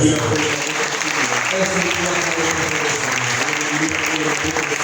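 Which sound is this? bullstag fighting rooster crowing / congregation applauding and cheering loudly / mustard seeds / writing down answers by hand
congregation applauding and cheering loudly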